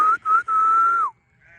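A person whistles to call farm animals to feeding at sunset: two short tones, then one long, steady, loud whistle that slides down at the end, followed by quiet.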